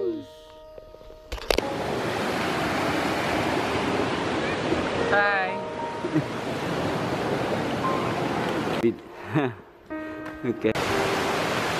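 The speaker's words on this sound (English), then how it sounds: "We're here at Waterfalls." A long waterfall in a rainforest setting on New Zealand's North Island produces a steady, broad rush of falling water that persists throughout, with people briefly greeting each other and a few birdlike chirps over the roar.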